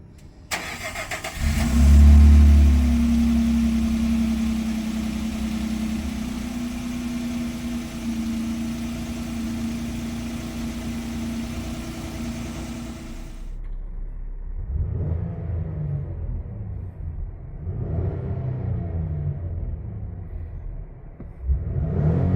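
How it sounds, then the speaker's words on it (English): A 2024 Nissan Frontier pickup cold-starts with a loud crank and catch, then settles into a steady, rumbling high idle close by before the tone shifts lower with some revving. "Here's what the truck sounds like on a cold startup."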